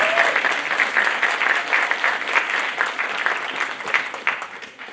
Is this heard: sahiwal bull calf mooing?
no